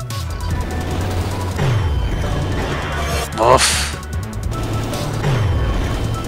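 Gunfire in the video game ATOMIK: RunGunJumpGun, with rapid bursts of shots, crunching impacts and a few rising whooshes layered over a pulsing game track, while someone speaks briefly.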